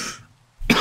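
A single sharp cough from a man playing hardcore Minecraft on a survival island, a short breathy burst after a brief pause, close and loud.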